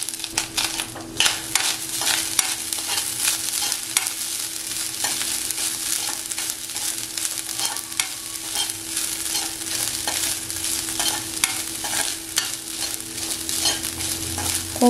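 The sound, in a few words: fresh coconut stir-fried in ghee in a wok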